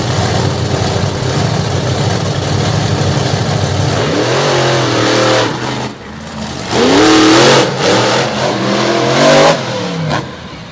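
A Ford Hemi-powered monster truck engine at a monster truck event in Abbottstown, Pennsylvania, roars loudly at a steady high pitch, then drops and revs up in repeated climbing surges, with no talk over it.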